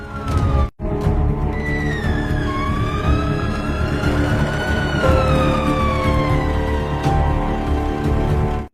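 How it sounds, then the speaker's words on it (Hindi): An ambulance siren wails loud and close, its rising and falling tones sweeping continuously over a steady road rumble, broken only by a brief dropout near the start. "वो देखो, एक एम्बुलेंस आ रहा है।"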